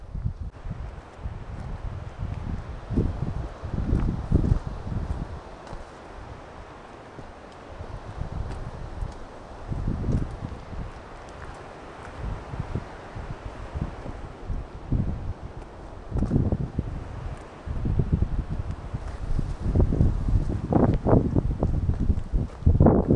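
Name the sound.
wind blowing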